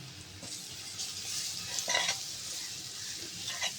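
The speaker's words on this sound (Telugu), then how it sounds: "ఆ వెల్లుల్లి పచ్చివాసన పోయే వరకు ఫ్రై కానిచ్చుకోవాలి." Garlic and spinach fry in a pan with cumin, green chilies and turmeric, giving a soft continuous sizzle broken by scraping stirs and occasional clinks of the spoon against the pan.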